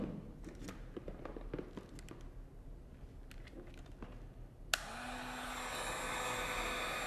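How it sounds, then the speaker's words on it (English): Light ticks and taps over a low hum give way to a hot air heat gun switching on with a sudden click, then a steady loud blowing hiss as it shrinks heat shrink tubing over a soldered joint. "I have a heat gun right here."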